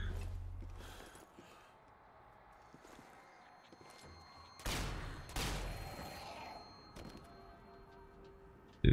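Enemies fire guns at the player in the video game Zombie Army 4: Dead War. Sporadic muffled shots are heard, then a louder burst of gunfire in the middle that fades into rumbling, followed by a sharp crack at the end.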